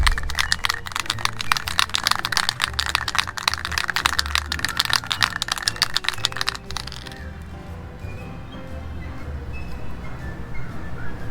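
Cans of slide lube shaken hard, giving a rapid rattling clatter for several seconds, close up, that stops abruptly and leaves a quiet room.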